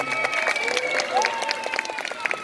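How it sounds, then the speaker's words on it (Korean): Families clap for three-year-old children at a preschool performance. Scattered, fairly soft applause mixes with voices and a thin tonal sound over the top. "가족 여러분들 힘찬 박수로 함께 하겠습니다"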